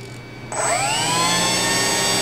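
An electric ducted fan jet spools up at low throttle, a steady broadband whoosh that starts abruptly and carries a high whine climbing in pitch, then holds loud and close with no talking.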